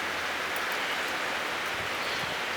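Gusty rain shower in southeastern Pennsylvania, heavy rain pouring as a dense, steady hiss of drops striking surfaces, loud and continuous with no voices.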